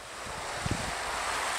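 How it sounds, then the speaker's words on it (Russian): Waves washing on the Sea of Azov shore near a campsite, a steady soft surf wash blended with wind noise on the microphone, with no voices present. "Это уже Азовское море."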